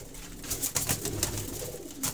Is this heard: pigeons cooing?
yes